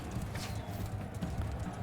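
Horse hooves clip-clopping in the medieval combat game Mount & Blade II Bannerlord, a quick, steady run of soft hoofbeats, fairly faint, with no talk.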